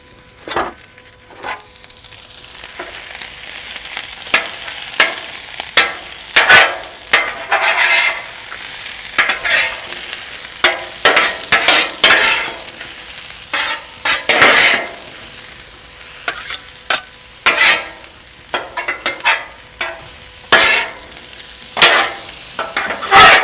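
Food fries in olive oil in a pan, a continuous loud sizzle broken by repeated scraping and stirring clatters throughout.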